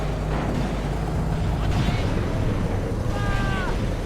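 Rumbling explosions and booms in a WW2 winter blitzkrieg video game, a continuous low roar with scattered bursts and higher whistling tones near the end.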